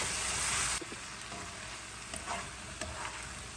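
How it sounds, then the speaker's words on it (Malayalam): Chopped tomato dropped into hot oil for beef masala, a loud hiss that quickly settles into a quieter sizzle, with light scraping stir strokes throughout. "അതിനുശേഷം ടൊമാറ്റോ ഇട്ട് കൊടുക്കണം. എന്നിട്ട് നല്ലതായിട്ടൊന്ന് ഇളക്കി കൊടുക്കണം."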